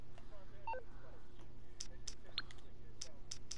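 Phone notification beeps inside GTA Online: a run of short, bright, evenly spaced tones sounding in a cluster near the end, over a steady low game hum with faint background talk.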